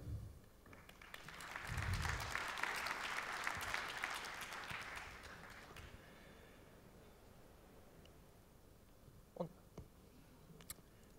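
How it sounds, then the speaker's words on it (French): Audience at a Public Cloud tech summit session applauds an assistant, clapping swelling after a second and holding steady before fading out by six seconds, followed by quiet room noise and a few faint knocks. "Je vous demande de l'applaudir."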